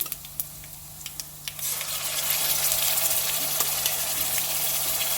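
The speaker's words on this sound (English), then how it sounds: "Reduce the heat all the way to the low when you are adding your tamarind paste" Tamarind paste sizzles as it goes into a hot pan on low heat for tamarind pulihora. A quieter hiss with a few light clicks swells into a steady, louder frying crackle that continues without talk.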